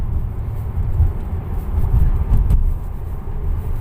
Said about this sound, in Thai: แฟนเป็นผู้ขับเอารถแฟนมาเนาะค่ะเนาะ